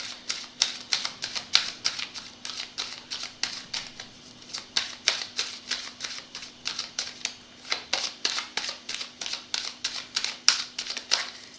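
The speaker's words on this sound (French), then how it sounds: "je vais mélanger les oracles" Oracle cards are shuffled by hand in a rapid series of crisp, papery riffles and taps, close and fairly quiet, running steadily with brief pauses, over a faint constant hum.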